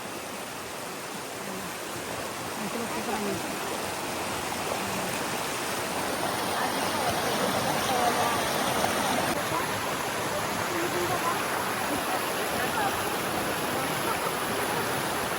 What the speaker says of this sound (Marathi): डॅम्पवरून पाणी हा असं खाली उतरतं बघा